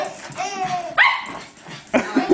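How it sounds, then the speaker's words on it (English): A young dog gives a few high, yelping barks in short bursts, close by, with brief pauses between them. "What's that puppy doing?"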